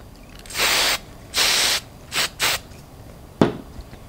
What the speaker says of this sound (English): Then hairspray it down.